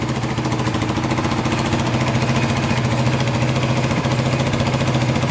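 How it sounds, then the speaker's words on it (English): A Yamaha Warrior 350 ATV, a wrecked quad just revived after a clogged exhaust pipe, idles steadily at close range with a fast, even single-cylinder chug and a rough mechanical rattle, running alone without voices. "Idling good now."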